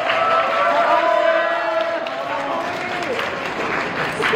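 A crowd at a Korean event welcoming two visiting Japanese voice actors from Demon Slayer claps and cheers, with continuous applause under a loud voice talking over it.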